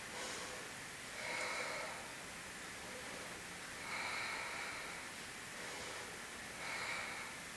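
Slow, audible breathing during a yoga balance pose, three long airy breath cycles rising and falling evenly, close and fairly quiet.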